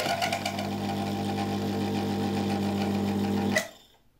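Electric motor with a worn, chewed-up rotor running with a steady rough hum and buzzing vibration, loud and close, then cutting off abruptly as it spins down near the end.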